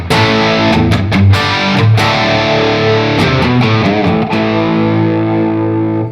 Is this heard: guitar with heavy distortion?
yes